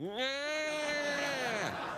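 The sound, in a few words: cat meowing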